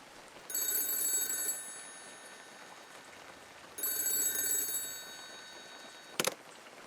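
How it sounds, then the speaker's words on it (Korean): An old bell-type telephone rings twice, each a bright, rattling burst about a second long, separated by a pause. The rings are fairly faint over low background hiss, and a brief click follows. "다시 전화기가 울렸습니다."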